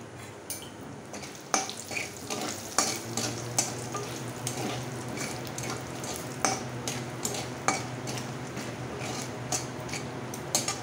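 Whole spices (cloves, black peppercorns, nutmeg and cumin seeds) fry in a tempering, a close steady sizzle broken by repeated scraping stirs and sharp clinks of a utensil against the pan.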